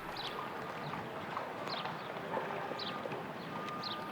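Show jumping horse Blackjack de Saint-Paul moving across a grass course, with a soft, steady clip-clop of hooves under constant outdoor background noise and faint bird chirps.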